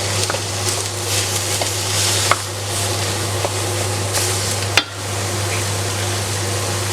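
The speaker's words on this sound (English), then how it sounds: "Fry it up" Minced pork sizzles in oil in a preheated wok, a steady bright frying hiss with faint crackles and a couple of sharp clanks from a utensil against the pan.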